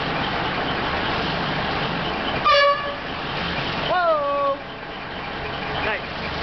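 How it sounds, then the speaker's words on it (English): Horn of an M818 military truck with a diesel engine, needing lots of work, sounding two loud blasts over the idling engine, a short one then a longer falling tone. "Will you hit the horn again?"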